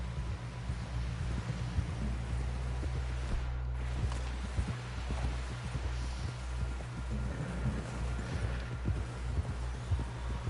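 Steady clip-clop of horse hooves at a walking pace in the video game Red Dead Redemption, a continuous rhythmic patter over a low ambient hum, fairly quiet with no talk.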